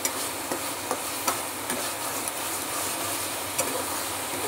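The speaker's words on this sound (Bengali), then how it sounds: "দেখো মশলাটাকে একটু কষিয়ে নিচ্ছি" A spice paste fries and is stirred in a pan, giving a steady close sizzle broken by occasional sharp scrapes and clicks of the spoon against the pan.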